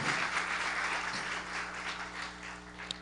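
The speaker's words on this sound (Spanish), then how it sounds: "Denle un fuerte aplauso al Señor Jesucristo." Church congregation applause, a steady wash of clapping hands at moderate distance with a faint hum beneath, sustained throughout.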